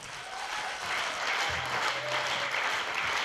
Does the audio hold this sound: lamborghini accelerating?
no